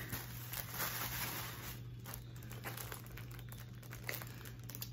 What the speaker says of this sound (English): So we peel it back.